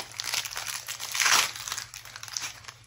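Paper packing material crinkled and crushed while unboxing the Forest Shuffle board game, a close run of crackling rustles swelling to a louder burst midway, with no voices.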